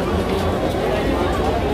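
Dense crowd babble at a ticket queue outside the Red Fort in Delhi, an unbroken wash of many overlapping voices close around.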